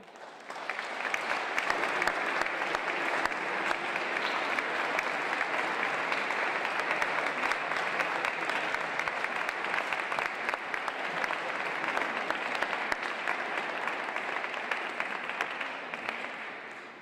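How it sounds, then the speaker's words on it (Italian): A long round of steady audience applause follows a choir's Christmas Nativity concert, continuous and even, heard from some distance at moderate volume with no voices. "bravi veramente, un applauso di nuovo"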